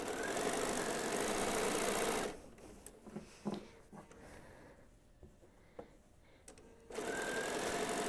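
Sewing machine stitching through a quilt: a dense, loud mechanical whirring runs for about two seconds, pauses into quiet with faint clicks and handling, then starts up again near the end.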